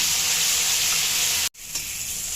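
Tomatoes fry in a pan for paneer lababdar, a steady bright sizzle that cuts out abruptly for an instant and then resumes slightly softer.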